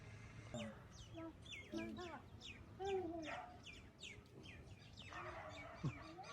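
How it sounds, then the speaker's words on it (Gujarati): Soft calls of pet pigeons cooing repeat near and far among chirps, with a sharp call near the end and background chatter. "પાલતુ કબૂતર આપણું"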